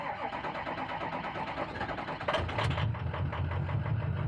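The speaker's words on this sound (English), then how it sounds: "Let the injectors get done making all that racket" Fuel injectors on a running engine tick rapidly and steadily over a close, continuous idle hum, which grows a little heavier and deeper partway through.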